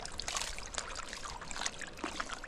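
Water washes steadily over gold-panning sluice mats beside the Fraser River, a dense, continuous splashing trickle, close and fairly loud, with small bright spatters rising from it.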